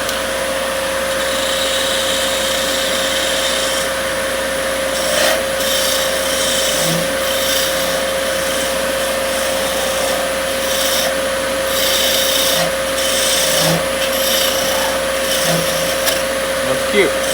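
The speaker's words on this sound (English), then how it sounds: "bring a bit more of this metal off" A turning tool cutting metal on a lathe, giving a loud, steady machine drone with a constant whining tone and occasional brief scraping swells, continuous from start to finish.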